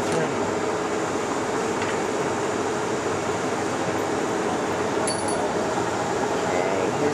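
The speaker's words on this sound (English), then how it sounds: "Carriage feeding. This is the reverse. Reverse feeds." A Monarch 18x54 lathe runs its carriage power feed in reverse, producing a continuous, close mechanical whir and hum at a steady level, with a faint clink partway through.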